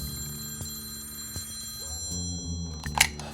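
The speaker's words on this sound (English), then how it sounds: "The telephone rings again." A telephone rings several times with faint, evenly spaced trills in a quiet room, ending in a brief louder clatter.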